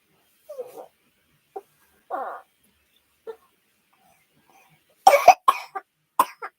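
A person coughs in a short, dry series of bursts without a croupy bark, the first few spaced apart and then a cluster of louder, closer coughs near the end, with quiet gaps between.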